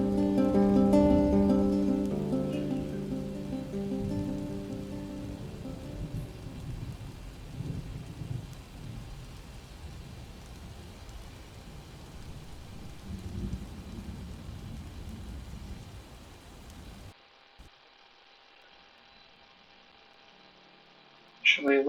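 Steady rain falls in the Dwarf Fortress 1.1 game world, a broad continuous hiss over a low tonal drone that cuts out abruptly near the end.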